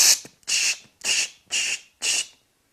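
Human whistled imitation of a chickadee's chewy scratch call: five evenly spaced breathy, hissy bursts, close and fairly loud, with no talking.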